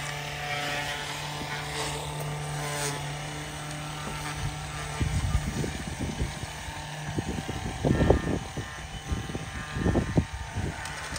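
A small garden-railway track cleaning car with a spinning cleaning wheel runs along outdoor track, giving a steady motor whir, with louder rattling bursts in the second half.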